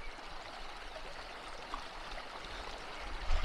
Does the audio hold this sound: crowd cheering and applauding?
no